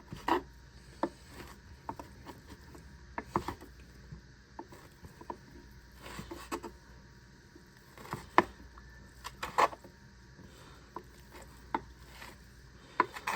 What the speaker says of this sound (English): I'm just going to kind of chop this up while it's cold.